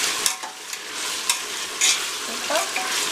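Tomatoes sautéing in a pan with salt for mutton biryani, a steady close sizzle broken by a few sharp scrapes and clinks of stirring, with no voices.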